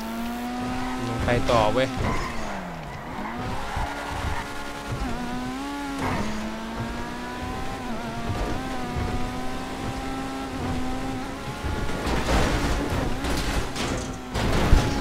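A fast car in FiveM, the GTA V roleplay game, revs and races with a sustained engine whine that rises and falls through gear changes. Brief tire noise cuts in, and someone talks over it throughout.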